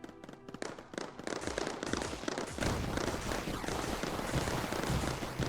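Arc turrets fire in the video game Mindustry, a dense stream of crackling electric zaps and bursts that thickens into a constant busy barrage.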